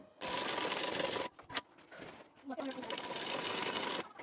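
A sewing machine stitches a blouse shoulder seam, running in bursts with short pauses between them, close and fairly loud, with handling sounds in the gaps.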